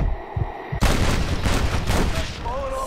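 A gunshot blast in the Red Dead Redemption Western game, a sudden loud report followed by a dense, echoing rumble of gunfire and noise that fills the rest of the moment.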